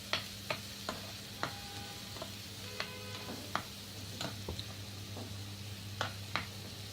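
Onions are stirred in a pan, with a soft sizzle under repeated sharp clicks and scrapes of a spatula against the metal, spaced irregularly and fairly quiet.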